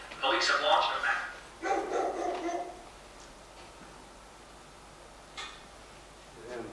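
Dogs barking as a sound effect in a stage performance of Whistle Down the Wind, two bursts of yapping barks up front, then a quieter pause and a short final yip, with faint voices behind.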